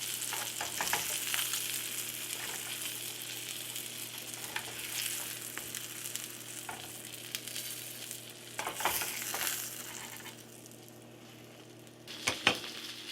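Cheesy chicken fritters frying in a pan, a steady close sizzle and crackle of hot oil, with occasional utensil scrapes and clinks as they are turned, no talking.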